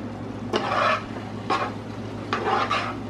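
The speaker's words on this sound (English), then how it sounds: "first put the um, chilies, uh, chili peppers on there. Go ahead and stir it around." Chili peppers frying in a hot pan, with three scraping stir strokes over a steady close sizzle and a low hum underneath.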